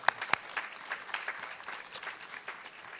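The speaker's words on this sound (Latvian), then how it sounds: "Es domāju, aplausi." Sparse clapping from a small audience at a youth political event in Latvia, a few sharp near claps at first, then scattered fainter hand claps.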